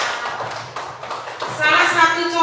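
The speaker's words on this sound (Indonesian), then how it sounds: "Nah, beri tepuk tangan dulu." A classroom of students breaks into applause, a patter of many hands building and growing louder toward the end, with a teacher's voice talking over it.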